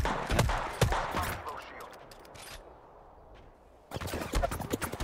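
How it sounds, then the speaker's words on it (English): Gunfire in the video game Apex Legends comes as rapid bursts of automatic shots that rattle loudly, drop out briefly and then resume, with people talking over it. "I'm being shot on the left."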